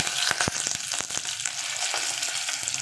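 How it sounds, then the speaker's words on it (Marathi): Mustard seeds, cumin and curry leaves sputtering in hot oil in a pan: a dense, close crackle with sharp pops scattered through a continuous hiss, no voices. "मोहरी घालत आहे नंतर जिरं घालत आहे कढीपत्त्याची पाने घालत आहे"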